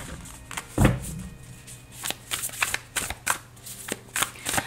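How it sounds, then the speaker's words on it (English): A deck of tarot cards is shuffled during a reading: one sharp riffle, then a run of softer, uneven card slaps and sliding sounds, close by and with no talking. "Two more shuffles. One more shuffle,"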